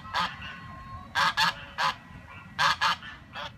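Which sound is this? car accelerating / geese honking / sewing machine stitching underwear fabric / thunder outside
geese honking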